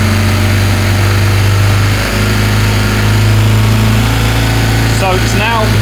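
Car engine climbing in RPM while its exhaust butterfly valve closes, a loud, steady drone close by with a short burst of voice near the end.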